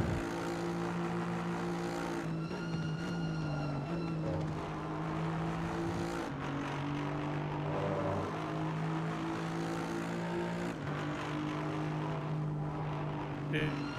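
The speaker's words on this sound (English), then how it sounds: "I can hear your engine, so I can hear whenever you lift off" Aston Martin V8 Vantage race car engine in Assetto Corsa Competizione drones steadily throughout, its pitch shifting as the throttle lifts and returns, with a voice talking over it.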